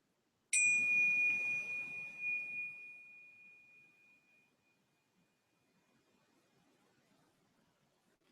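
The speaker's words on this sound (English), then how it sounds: "allowing the bell to be part of our experience" A single meditation bell struck once rings out clear and pure, its bright tone slowly fading over several seconds into near silence, close and alone with no voices.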